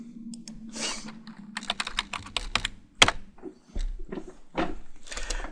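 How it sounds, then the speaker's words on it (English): Password typed on a computer keyboard at close range, a quick irregular run of light key clicks with a sharper tap near the middle, no talking. "If I remember how to type my password."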